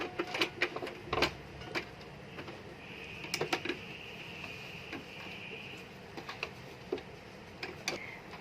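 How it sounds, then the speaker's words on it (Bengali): A sewing machine stitches a neck design in fabric with quick, irregular ticking stitches that stop and start. A soft mechanical whine hums through the middle stretch. "এখান থেকে আমি ঘুরিয়ে অপর সাইডটাও সেলাই করে নিচ্ছি"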